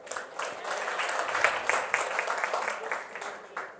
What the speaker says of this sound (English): please give yourselves a good round of applause